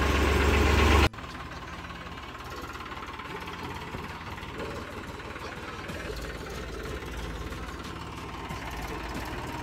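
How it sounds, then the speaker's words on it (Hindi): A second-hand tractor engine idles steadily at close range, a low continuous rumble with no talk, after a brief louder burst at the very start. "कितना डर रहा है ट्रैक्टर के आवाज़ से"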